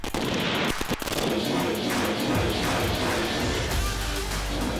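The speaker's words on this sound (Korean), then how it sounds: "기관총 사격." Machine-gun firing during army combat training by a South Korean Army mobile battalion, heard as a dense, continuous roar of rapid bursts with a few sharp cracks near the start, loud and unbroken throughout.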